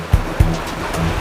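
Rising floodwater of the Mana, Ai and Beki rivers in Assam rushes as a steady broadband wash, with a couple of dull low thumps near the start.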